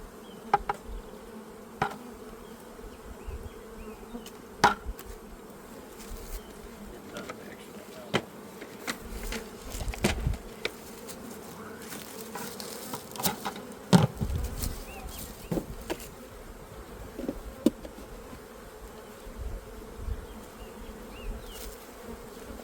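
Honeybees buzz around their hives during a spring split of full-size colonies, a faint steady hum scattered with sharp knocks and clicks from hive work, with occasional low voices nearby.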